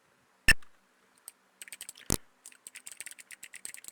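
Keys clacking on a home computer keyboard: two sharp isolated strokes, then a rapid irregular run of close, crisp clicks.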